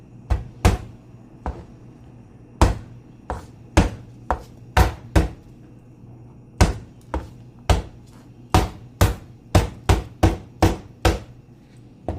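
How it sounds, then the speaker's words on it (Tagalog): Garlic cloves crushed hard against a board, a string of sharp, loud thuds landing close by in an uneven rhythm with brief gaps, in a plain home kitchen with no voices. "pitpitin natin yung bawang"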